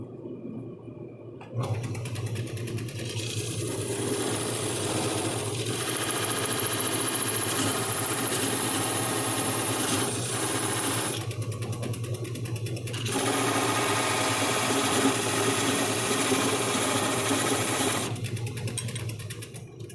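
A wood lathe turns a tree stump into a candle holder, cutting journals to a set diameter. A steady, loud machine hum and cutting drone runs nearly throughout, with brief pauses near the start and around the middle.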